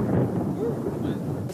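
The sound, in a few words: thunder rumbling during storm in France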